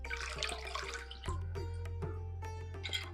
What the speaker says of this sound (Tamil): இன்னும் கொஞ்சம் நான் தண்ணி சேர்த்துக்கிறேன்